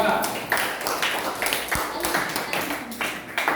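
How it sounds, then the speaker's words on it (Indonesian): Students in a classroom clap for group 2 after their presentation on temperature measurement, a short, uneven patter of hands at moderate loudness, with a voice speaking faintly around it. "Tepuk tangan untuk kelompok 2"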